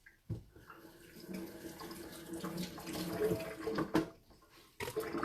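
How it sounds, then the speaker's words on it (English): Vegetables being rinsed under a running kitchen tap, a steady close splashing stream with brief breaks and changes in flow as the produce is turned under the water. "Let me give this side a rinse."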